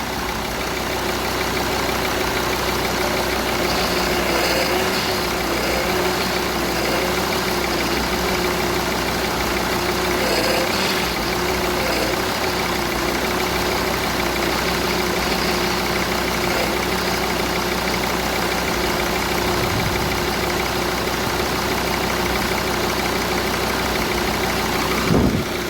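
A Jeep Grand Cherokee WJ engine idles steadily with a continuous low hum and faint mechanical ticking, heard up close and loud for the whole stretch, with no talk.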